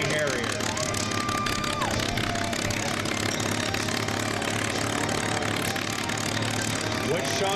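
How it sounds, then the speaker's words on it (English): A stunt aircraft's engine roars loud and steady as the plane stands on its tail in a hover at an air show, with a commentator talking over it throughout. "he is going to stand this aircraft on its tail and bring it to a hover"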